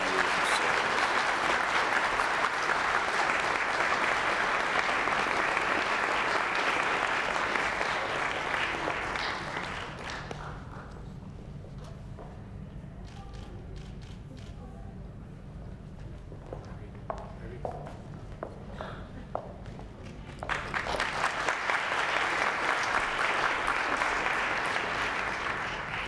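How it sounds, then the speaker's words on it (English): An audience applauds at a service award presentation, loud sustained clapping that fades out after about ten seconds, leaving a quiet room with a few scattered sounds, then swells again into full applause near the end. "please applaud Irene Cotton for her 12 years of service"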